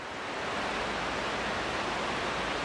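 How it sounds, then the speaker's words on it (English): Reed Falls, also called Little Falls, in Skagway, Alaska, roars as a steady broadband rush of falling water, dense and unbroken throughout, with no voices over it. "This is called Reed Falls or Little Falls."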